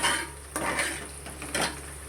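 Onions stirred in a metal pan, giving a few soft scraping and clinking utensil strokes against steady background hiss.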